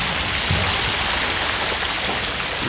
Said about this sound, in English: there's the downtown water fountain.